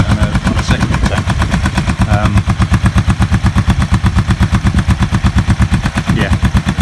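A Kawasaki EN450 bobber motorcycle engine runs roughly on a secondary tank, a loud, close, steady rapid exhaust pulse that keeps up throughout without pause.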